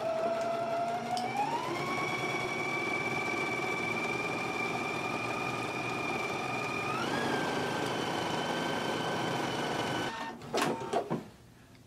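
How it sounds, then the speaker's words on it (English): A sewing machine stitches pinned facings at a 5/8 inch seam allowance, running in a steady whir that rises in speed twice, then stops near the end with a few clicks and handling noises. "we can go to the machine and stitch them in a 5/8 of an inch seam allowance"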